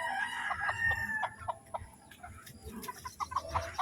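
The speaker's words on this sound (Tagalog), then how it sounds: "pakalat-kalat lang yung mga manok dito sa bahay kubo" Chickens roam freely around a nipa hut, with repeated nearby clucks and short calls forming an irregular pattern throughout, over a soft outdoor background.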